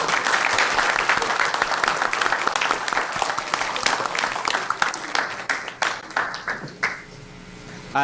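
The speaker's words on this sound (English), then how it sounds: "could we all just give them a round of applause, please?" A hall audience at a City of Commerce event honoring Ballet Folklorico dancers breaks into a loud, dense round of applause that holds steady, then thins into scattered claps and fades.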